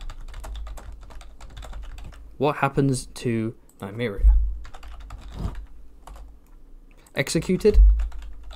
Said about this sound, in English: A little bit more typing ASMR for you.